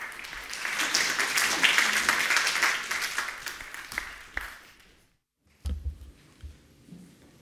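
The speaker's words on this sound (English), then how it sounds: "Would you give him a round of applause as he comes forward?" Congregation applause in a Church of Scotland parish church, a full round of clapping that builds, then fades out after about four seconds into near silence before a few scattered bumps and movement noises.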